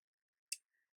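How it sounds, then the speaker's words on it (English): A single crisp snip from a large pair of scissors cutting excess cardstock off a handmade card, short and close in an otherwise quiet room. "I flip the card over so that I can cut off the excess pieces with a large pair of scissors"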